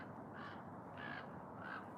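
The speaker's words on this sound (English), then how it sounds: "I don't need to hear a crow cracking its face off right now" A crow caws three times at an even, unhurried rhythm along an Oregon trail at South Beach State Park, the harsh calls moderately distant over steady outdoor background noise.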